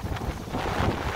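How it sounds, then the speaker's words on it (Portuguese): Strong outdoor wind buffets a phone or drone microphone during a hunting outing, producing a continuous loud, low rumbling roar with no speech. "Nossa, mas tá ventando"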